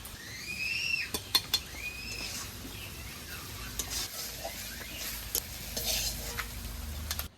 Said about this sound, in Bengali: হাঁসটা আমার ভাজা হয়ে গেছে, এবার নামিয়ে নেব।